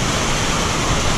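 Warm spring water at Tolantongo in Mexico pours steadily into a river at the bottom of a walkway, a dense, even rushing wash that fills the short moment without a break.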